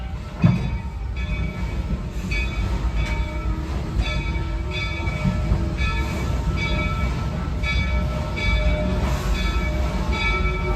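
The Walt Disney World Railroad train at Magic Kingdom rumbles steadily along the rails with metallic squeals and clanks, slowing as it rolls into the station, with a short horn-like tone near the start.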